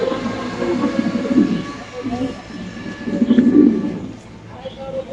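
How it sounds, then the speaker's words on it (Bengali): A black-headed male pigeon coos in low, rolling pulses, two swelling bursts close by, with voices talking around it in a busy market setting. "এখানে আছে কালো মুন্ডির একটা নর কবুতর"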